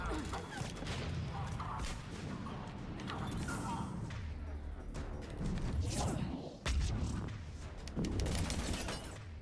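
A Mass Effect 3 battle brings dense, continuous combat noise: grenade blasts, rattling gunfire and crashing impacts pile up without a pause, with heavier thumps now and then.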